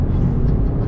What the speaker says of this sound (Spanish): Aquí aceleramos y automáticamente el coche te entrega esa potencia